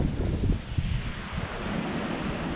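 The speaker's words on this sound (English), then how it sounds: "Waves are breaking, but now it's gone a lot calmer." Waves breaking on the shore of a Bristol Channel bay, a steady close wash of surf mixed with gusty wind buffeting the microphone, with no voices.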